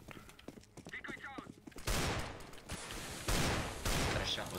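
A Desert Eagle shot rings out in CS:GO: sharp, loud gunfire bursts cut in after a stretch of quieter game sound, with a second strong blast later, and a voice is briefly heard early on.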